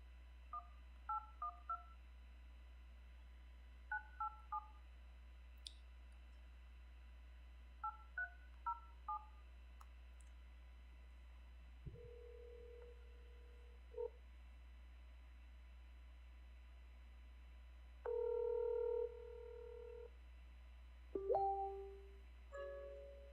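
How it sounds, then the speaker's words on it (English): A telephone call is dialed with touch-tone keys: several quick clusters of beeps, then a few longer single tones near the end, clear against a quiet line. "next up, I'm calling Queen."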